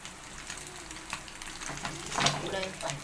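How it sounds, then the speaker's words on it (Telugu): An egg fries in a pan while it is turned and broken up for an egg fry, making a soft, close crackling sizzle with light scraping from stirring. "ఇలా తిప్పుకుంటూ కాల్చుకోవాలన్నమాట పచ్చి గుడ్డు అనేది పచ్చితనం లేకుండా వేగనివ్వాలి"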